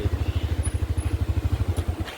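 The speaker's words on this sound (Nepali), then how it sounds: "यहाँबाट फेरि बाइकमा मोटर बाइक चलाएर फेरि उकालो" A motorcycle engine thrums close by with a steady, rapid low-pitched pulse as it is ridden uphill on a mountain road near Jogighat, continuous and alone for a couple of seconds.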